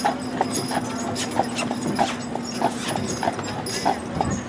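Belgian draft horse hooves clip-clop at a steady walking rhythm on a hard surface in Lunenburg, Nova Scotia, with crisp, evenly spaced strikes close by and a faint hum underneath.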